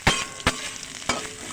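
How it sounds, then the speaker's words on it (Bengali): Potato pieces frying with curry leaves in a pan, a steady crackling sizzle broken by three sharp scrapes of a spoon stirring at intervals. "আলুগুলোকে আমি এবার ভালো করে একটু ভেজে নেব।"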